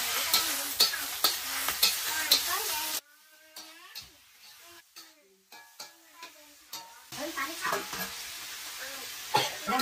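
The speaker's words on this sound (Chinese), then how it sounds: "用肉放上去炒一下。" Pork with green vegetables is stir-fried in a pan: sharp sizzling and repeated spatula strokes up close, then a quieter stretch where a voice talks over softer frying before the stirring returns.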